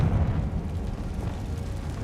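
A Confringo fire spell blasts in Hogwarts Legacy, a loud, close, rumbling explosion that roars and rolls on for a couple of seconds without speech.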